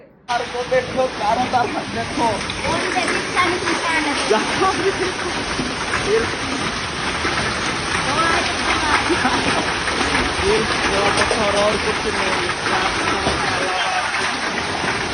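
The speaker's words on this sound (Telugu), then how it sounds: "ఇక వాన అంటే వాన కాదల్లా, ఐస్ గడ్డలు పడుతున్నాయి. చిన్నవి కాదు, పెద్ద పెద్ద ఐస్ గడ్డలు పడుతున్నాయి" Large hailstones pound down in a storm, a dense, loud, continuous drumming and hissing roar that fills the whole stretch with little letup.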